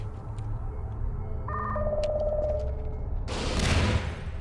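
Rocket turrets in Portal fire in a game test chamber: a few beeping electronic tones and a rising whine build up, then a loud, broad rocket blast bursts out and fades.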